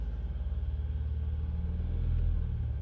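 A 2021 VW Polo 1.0 TSI three-cylinder petrol engine running steadily with a low, even rumble that swells slightly near the end as it is revved, heard close with no talk.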